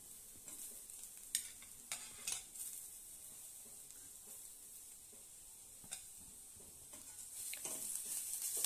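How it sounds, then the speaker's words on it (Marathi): Capsicum is stirred and tossed in a spiced besan mixture in a pan, a soft continuous sizzle with scattered spoon scrapes and taps, quiet and close, building slightly toward the end. "हे सगळं मिश्रण आता आपण छानपणे परतवून घेऊया।"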